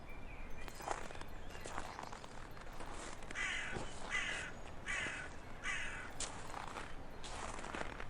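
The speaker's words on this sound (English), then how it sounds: "You can hear birds call in the trees." Crows caw repeatedly from the trees, harsh calls arriving in irregular bursts at moderate distance over a soft outdoor background.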